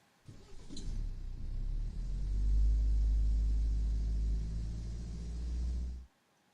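A simulated car engine heard through a plasterboard wall: a steady, muffled low rumble that swells after a second and holds for about five seconds before cutting off abruptly, with no speech.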